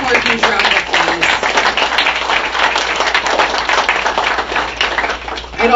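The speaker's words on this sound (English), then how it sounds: "give them one more huge round of applause" A crowd at a museum exhibit grand opening gives a big round of applause, loud and continuous, a dense wash of clapping lasting several seconds.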